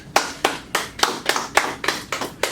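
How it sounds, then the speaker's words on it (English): Distinct, evenly spaced hand claps, about nine sharp strikes in a steady rhythm, close and loud with no crowd behind them. "Give a round of applause to them."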